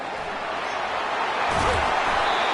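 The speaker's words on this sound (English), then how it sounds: "Slammed to the ground, but not before he gets the first down." An American football player is slammed to the ground in a tackle during a game, a dull thud landing midway through a steady stadium crowd roar.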